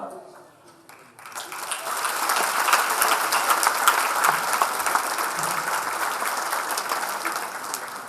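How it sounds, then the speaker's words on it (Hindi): Applause for composer Yashwant Dev at an R. D. Burman award night, a dense sustained crowd clapping that swells in after a quiet second and holds steady at full strength to the end. "जोरदार तालियों से आपका अभिनंदन किया जाए"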